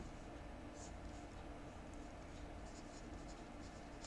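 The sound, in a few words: writing an answer by hand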